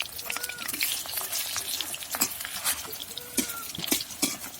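Rice flour and lentil fritters with Malabar spinach sizzle steadily in a wok of hot oil, a close, continuous crackling fry with scattered sharper pops and no talk.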